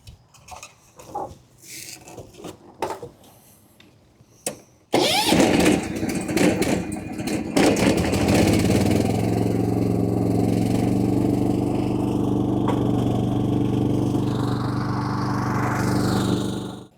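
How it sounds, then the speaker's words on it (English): A John Deere 300 garden tractor engine starts up after a few clanks and clicks, catches suddenly, then settles into a loud, steady, close running idle before cutting off at the very end. "So I'll start up the tractor and lift it up."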